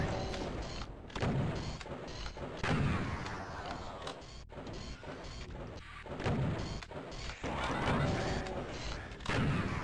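Rapid gunfire and blasts from enemies in the classic shooter Doom 2, a dense stream of repeated shots and thuds, fairly loud and continuous throughout.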